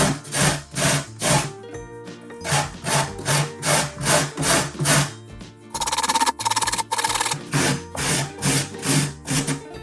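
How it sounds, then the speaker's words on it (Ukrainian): Carrots grated by hand on a grater for borscht, giving a steady run of rhythmic rasping strokes, close and fairly loud, with a brief faster, denser burst partway through and no talk. "натираємо повністю нашу морку"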